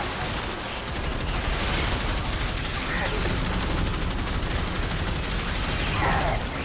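Rocket launcher and weapon fire in Warframe, a dense continuous barrage of loud blasts and shots with no pauses, a voice faintly present beneath.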